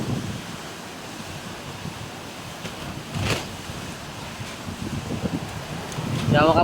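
Steady roar of strong wind outside a hut, a broad rushing wash with a short louder gust midway and a swell toward the end; faint voice-like sounds surface near the close.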